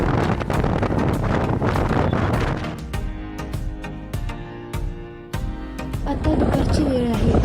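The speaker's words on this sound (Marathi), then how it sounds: "आता दुपारची वेळ आहे आणि बाहेर छानसा पाऊस पडतोय. थंडगार वाऱ्यासोबत पावसाचे थेंबही होते." Outdoor wind and rain on a cool afternoon roar and gust loudly against the microphone, a constant rushing noise with scattered sharp drops or knocks.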